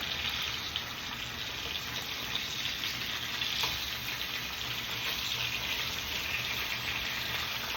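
Fresh tuna sizzling steadily in a hot pan, a constant bright frying hiss with a soft clink as a fork flips the fish, no voices.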